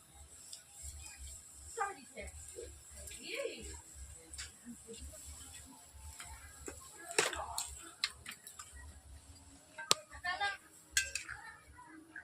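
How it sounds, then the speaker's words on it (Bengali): Cauliflower and hilsa fish curry soured with amchur is stirred in a pan after salting, making soft, scattered metal clinks and scrapes at low volume while a voice talks over them. "নুন দেওয়ার পর এইভাবে আমি নেড়ে নিচ্ছি।"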